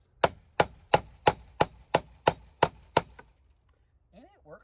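Hammer striking a 1 7/8 inch ball head to drive a trailer wheel bearing onto a 1 inch axle, nine sharp ringing metallic clangs at an even rhythm, close and loud, followed by brief faint sounds.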